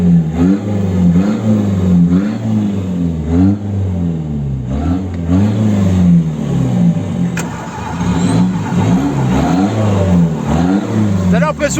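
A BMW E46 with a full straight-through exhaust idles and revs in a choppy, repeated pattern, close and loud, while people talk over the engine.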